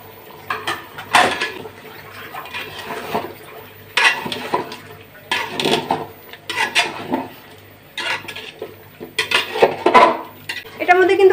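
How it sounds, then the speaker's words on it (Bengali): Chicken biryani masala stirred and sautéed in a pot with no water added, a spoon scraping and clanking against the metal in irregular bursts, with soft background sizzle between strokes. "মশলা মাখিয়ে এইভাবেই কষানো হচ্ছে"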